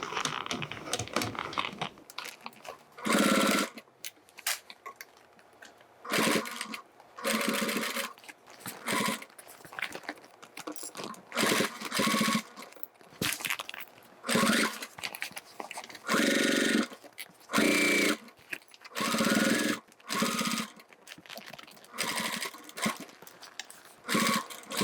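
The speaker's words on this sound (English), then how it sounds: "So now we sew around here from there and around here, and we sew from this side." A sewing machine stitching a toiletry bag in repeated bursts of fast whirring, each a few seconds long, separated by pauses with faint fabric rustling; close and clear, no talk.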